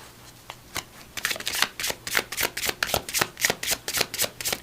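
A deck of angel number cards is shuffled near the mic in a rapid, even run of crisp riffling flicks that builds into steady shuffling.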